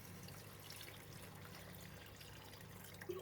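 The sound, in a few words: water poured into pan of pork belly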